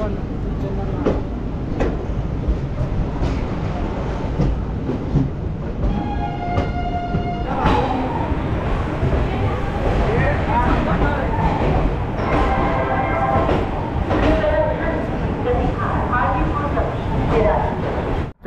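The Kishanganj-Ajmer Garib Nawaz Express train rumbles steadily as it runs, with clanks and squeals over continuous rolling noise heard from inside the train.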